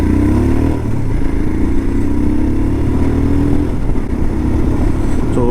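A motorcycle fitted with a Red Rooster performance exhaust and BMC air filter accelerates hard toward 5000 RPM, its engine note loud and close, climbing in pitch and briefly dropping between gear shifts.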